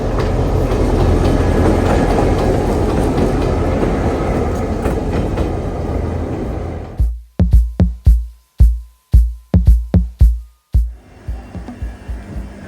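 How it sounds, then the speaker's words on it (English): A train rumbles loudly and steadily, then slows into rhythmic clickety-clack beats as wheels pass over rail joints, the clacks spaced and fading as it arrives at Kuranda Station, Australia. "after about 2 hours on the train, we're now arriving at Kuranda Station"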